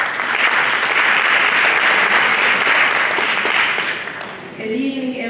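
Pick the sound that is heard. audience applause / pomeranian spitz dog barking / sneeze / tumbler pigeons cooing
audience applause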